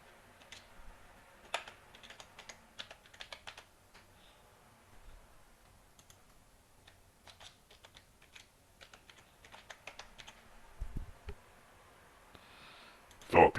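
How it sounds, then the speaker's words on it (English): Password being typed on a computer keyboard: scattered bursts of light key clicks at an uneven pace, close and fairly quiet, with a louder clack near the end. "I'm just going to type in my password"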